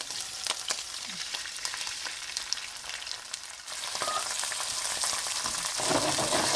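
Steady crackling sizzle of garlic frying golden in hot oil, continuous and close, growing a bit louder and brighter partway through.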